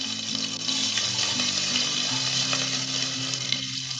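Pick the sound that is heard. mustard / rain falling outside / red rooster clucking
mustard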